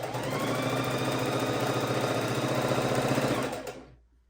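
A sewing machine stitches quilt pieces in one continuous, loud, steady run of rapid needle clatter and motor hum, then stops abruptly near the end.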